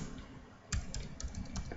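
Keys clatter on a computer keyboard in a short burst of typing, several quick close taps falling in an uneven rhythm with no one speaking.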